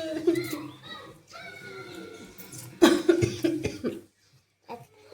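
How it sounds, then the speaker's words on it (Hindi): A woman coughs hard several times from an illness, the coughs close and loud, with talking before and between them. "खांसी हो रही है बहुत ज़्यादा"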